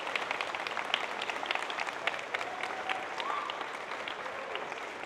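An audience gives a round of applause for staff at a welcome ceremony, with many hands clapping steadily and moderately loud and a few sharper individual claps standing out.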